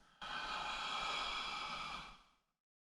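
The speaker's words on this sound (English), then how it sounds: "Breathing out as you brush your knee and push." A single long, breathy exhale during a tai chi push movement, starting suddenly, holding steady and close, then fading out into silence.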